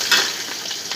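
Garlic and coriander fry in hot oil for a tempering: a loud, close, continuous hiss and crackle of sizzling oil with slight stirring swells.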